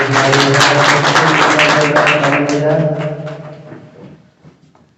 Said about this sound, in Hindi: जोरदार ताली से